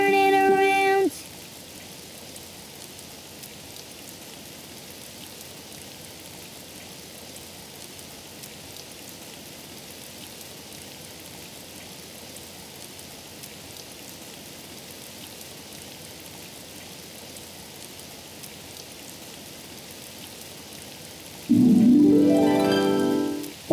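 Steady cartoon rainfall patters outside as a soft, even wash of drops, with brief musical tones at the start and a louder sung or spoken burst near the end.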